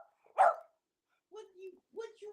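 A single sharp bark from a pup rings out nearby, then a person speaks after a short silence.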